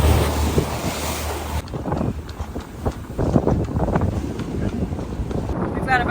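Strong wind buffets the microphone aboard a sailboat under mizzen and jib in about 17 knots of breeze, with waves washing against the hull in a constant, loud roar.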